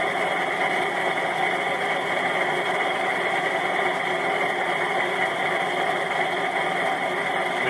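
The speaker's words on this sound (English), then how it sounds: "Look how much the motor's slowing down." A dual rotor pulse motor runs steadily with a continuous mechanical whir and hum at an even level, its tone easing slightly as the motor slows under load; no one speaks.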